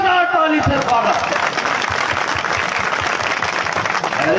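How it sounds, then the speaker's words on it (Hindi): Village gathering at a Chhattisgarh fair welcoming guests with loud, sustained crowd applause that fills the space densely, while someone speaks over it near the start. "एक बार और जोरदार ताली से स्वागत।"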